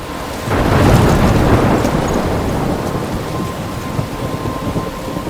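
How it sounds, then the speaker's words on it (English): A thunderstorm in the video game Life is Strange: a loud rolling thunder rumble breaks in after half a second and fades into steady, heavy rain, with no voices. "I'm trapped in a storm?"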